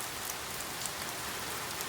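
Steady, dense rain falls as an even wash of hiss with no pauses. A few faint individual drops stand out, and no voices can be heard.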